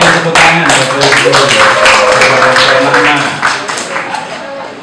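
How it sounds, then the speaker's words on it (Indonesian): An audience at a school Easter service gives a round of clapping, a dense patter of hand claps that tapers off, mixed with voices and background sound in a hall. "Kita tepuk tangan Bapak Ibu."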